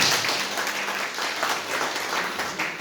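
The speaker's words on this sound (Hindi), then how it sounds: "बहुत अच्छे गीत सुनाए तो तालियां बजा के एक बार अभिनंदन करना चाहिए" A gathering at an Arya Samaj event in Faridabad applauds a singer with a dense, continuous burst of clapping from many hands, full and fairly near, with no voices over it.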